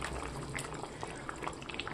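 Potatoes simmering in a pot of water for aloo posto, a steady close bubbling and gurgling with small liquid pops throughout, without talking.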